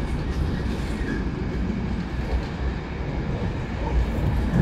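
The KA Turangga panoramic passenger train runs at night between Surabaya and Bandung, a steady, loud interior rumble of wheels on rail with faint clatter throughout and no talking.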